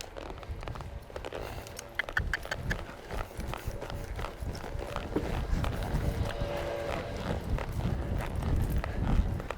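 Hooves of a Baroque Pearl colt and a Dandy Warhols filly being ridden, a rhythmic clip-clop of hoofbeats close by over a rumbling background, continuing steadily and growing a little louder.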